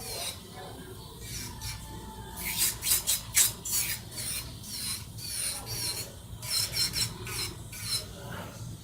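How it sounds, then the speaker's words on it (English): An electric nail drill files down acrylic nails, giving close, rasping grinding bursts in an uneven rhythm as pressure comes and goes, with no one speaking. "you have kind of like a feel when you know when you're drilling into acrylic"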